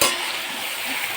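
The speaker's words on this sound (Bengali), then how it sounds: "এবার দিয়ে ভালো করে নেড়ে নিই" Eggplant bharta with tomatoes and chillies is being stirred and frying in a pan, a steady close sizzle with scraping, loud and continuous.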